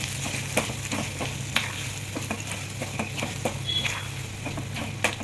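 Gongura chutney being stirred and mixed in a pan, with a steady low sizzle and scattered scraping taps of the spoon, fairly quiet and close, with no talk.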